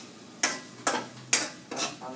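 A utensil scrapes food around a pot in four slow, evenly spaced strokes during home cooking, each a rough swish, close and fairly loud.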